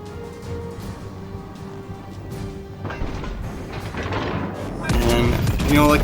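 Naval gunfire from the battleship Georgia in the World of Warships Legends video game: a steady low rumble of distant booms that swells into a loud, sharp broadband blast near the end.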